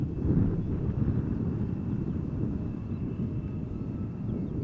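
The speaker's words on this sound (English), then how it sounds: "it was a 777 freighter from Qatar Cargo from Liège to Oslo that we saw just now" A Boeing 777 freighter passes at Amsterdam Schiphol airport, heard as a steady, moderately distant jet roar with a faint high whine, holding fairly even throughout.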